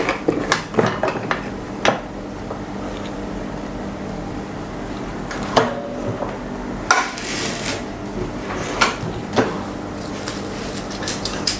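A rim cutter machine, model 858-A3, cutting along two sides, gives a continuous low mechanical rumble punctuated by sharp clunks and clacks at irregular intervals, close and fairly loud.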